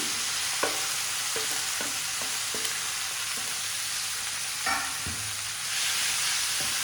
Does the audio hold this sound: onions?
yes